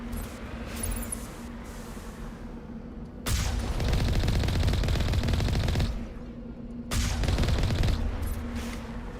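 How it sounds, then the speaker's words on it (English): Sustained automatic gunfire bursts in the Mass Effect Legendary Edition video game, two long rattling volleys over a steady humming background, loud and close. "They're still shooting."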